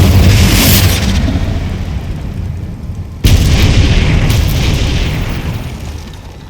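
Confringo and Bombarda spells detonate in Hogwarts Legacy as two loud, booming blasts, the second erupting sharply midway, each followed by a long rumbling roar that slowly fades.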